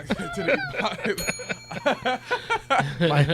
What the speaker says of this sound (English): Feel free to ring the bell, Joe. That's fine. That's the authentic end bell.